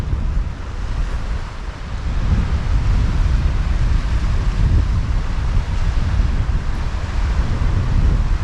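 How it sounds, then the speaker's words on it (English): Strong northwesterly wind on the Bristol Channel shore: a loud, constant roar buffeting the microphone, swelling and easing with the gusts, with possible surf underneath and no voices. "this old northwesterly is quite strong"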